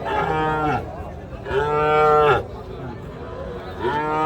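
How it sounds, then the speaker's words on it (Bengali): A five-to-six-month-old bull calf at a cattle market moos three times in quick succession, loud and close, with drawn-out nasal calls separated by short pauses. "মানে একটি ষাঁড় গরু"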